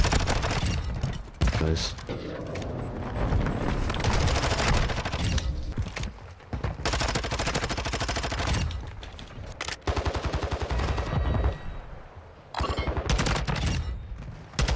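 Sustained automatic gunfire in Call of Duty Modern Warfare 2, dense bursts of rapid shots running almost continuously with brief gaps, loud and close, while players talk over it.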